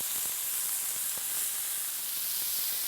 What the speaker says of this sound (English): These steaks are perfectly seared.